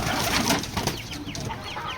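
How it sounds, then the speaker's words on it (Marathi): Desi country hens on a village poultry farm, a few short clucks and chirpy calls over a busy, close background with rustling and wing movement, no talking. "ह्या बघा ह्या आपल्या सर्व कोंबड्या आहेत गावठी"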